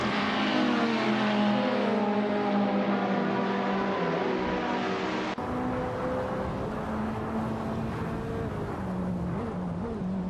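Several 2018 Bentley Continental GT3 race cars drone steadily in a racing video game, their engines holding sustained high revs with shifting pitches, loud and continuous throughout.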